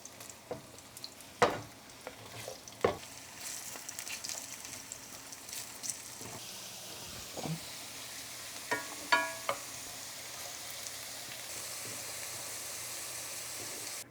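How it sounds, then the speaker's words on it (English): Potatoes fry in hot cooking oil for a family chicken stew, giving a steady broadband sizzle with a few sharper clatters and stirring knocks near the pan, and no talking. "cooking oil for frying our potatoes"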